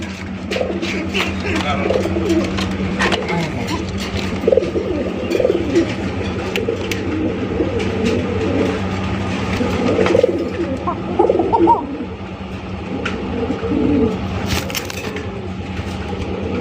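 Fancy pigeons coo repeatedly in a noisy enclosure under lights, soft throaty calls overlapping against a steady low hum and scattered rustling.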